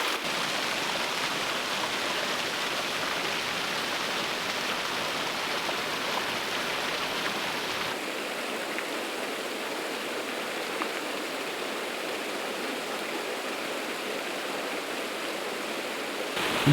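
A loud waterfall rushes close by in a steady, unbroken roar of falling water with no voices over it, its tone thinning slightly about halfway through.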